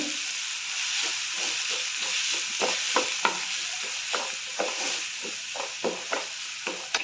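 Tomatoes for shakshuka sauté in a pan with a steady broadband sizzle, while a spoon or spatula scrapes and stirs in repeated sharp taps and strokes near the microphone; no one speaks.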